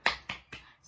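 Three quick sharp claps in a brisk rhythm, close and crisp, each fading quickly.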